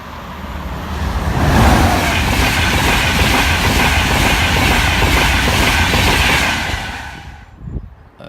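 A train roars past close by at a level crossing, loud rumbling and clattering for several seconds before fading away quickly.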